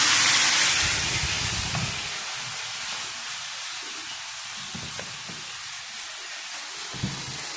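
Food hitting a hot skillet sets off a loud, steady sizzle and steamy hiss that is strongest at first and then settles into a continuous crackle, close up with no talking.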